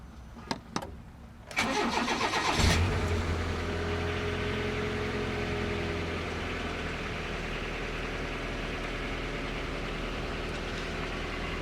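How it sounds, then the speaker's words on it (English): A car engine cranks with a few sharp clicks and a brief starter whir, catches, revs up, then settles into a steady, fairly loud idle that continues unbroken. "I am about to turn on my car."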